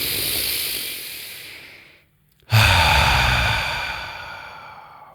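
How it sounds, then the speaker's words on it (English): A big, deep breath, heard as a long hissing inhale that fades out, a brief silence, then a loud, close exhale that slowly trails off. "to take a big, deep breath"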